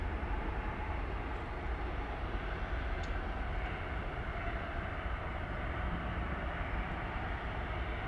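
An American Airlines jet takes off from a runway at DFW Airport at night, a continuous distant roar of jet engines that holds steady throughout.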